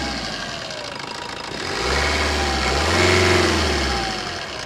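A diesel car engine runs close by, a steady low rumble that swells as it revs up, then settles back to a smooth hum.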